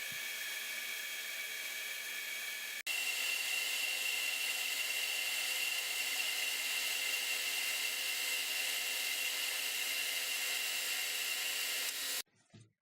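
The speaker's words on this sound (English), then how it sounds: "Lathe work is accomplished." A metal lathe turning a pull stud for a milling machine, a steady high whine that steps up louder after a sharp click, runs continuously, then cuts off abruptly near the end.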